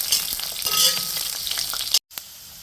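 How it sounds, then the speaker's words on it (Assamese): Potatoes fry in hot oil in a pan, a bright continuous sizzle with occasional stirring clatter, cutting off briefly near the end before resuming faintly, with no talk. "তো ফাৰ্ষ্ট আলুখিনি ফ্ৰাই কৰি লওঁ অকণমান।"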